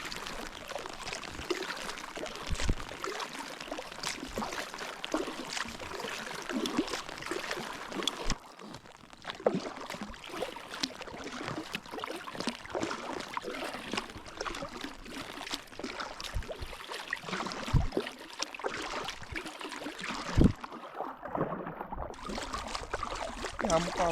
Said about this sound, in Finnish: Ihan mukavahan se on tämmöisellä pikkusateellakin täällä meloa menemään.